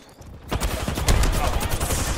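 A burst of video game gunfire erupts after a quiet moment, then keeps up as a loud, close, rattling volley of rapid shots, with a voice faintly mixed in.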